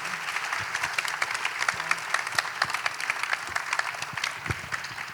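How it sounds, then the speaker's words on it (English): Audience applause after a fireside chat on trustless systems, a steady wash of many hands clapping at moderate volume with scattered louder claps, no talk over it. "Big round of applause for our fireside chat."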